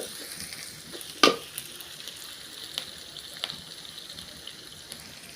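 Onion, curry leaves, garlic and dry chilli fry in a tempering for tamarind avalakki, a steady close hiss with one sharp clatter of stirring and faint pan scrapes, no speech.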